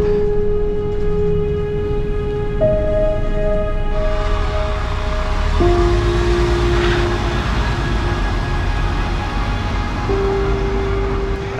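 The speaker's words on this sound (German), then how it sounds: "Also ich habe jetzt hier am Bahnhof erstmal ein bisschen Aufenthalt" Steady tones hum and shift pitch over a constant rumble of machinery at a train station, like a train idling, with no voices.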